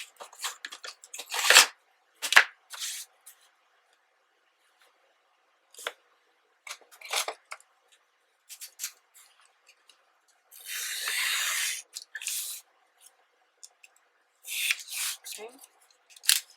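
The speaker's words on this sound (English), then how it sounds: "I'm just gonna cut this part here out." Cutting out part of a box for giant playing cards, heard as scattered bursts of snipping, scraping and rustling with silent gaps between them, close and moderately loud.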